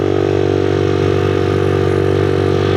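A 1977 Honda XL75, an old farm motorcycle, runs steadily at idle with a loud, even engine hum and no breaks.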